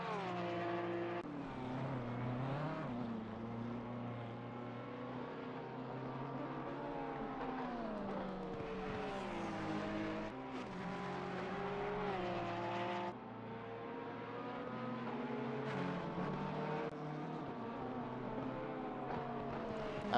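Porsche and Ferrari GT race cars battle at Bathurst in Assetto Corsa Competizione, engines droning steadily with rising and falling pitch as they accelerate and shift, a continuous loud racing roar throughout.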